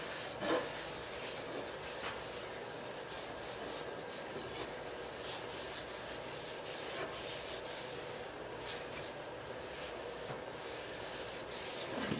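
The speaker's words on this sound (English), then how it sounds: "Just going to put a little bit of oil varnish on it right now" Steady soft rubbing of a cloth working oil varnish into a homemade wooden steering wheel for a boat-tail speedster, a continuous close scuffing texture with faint strokes and no talk.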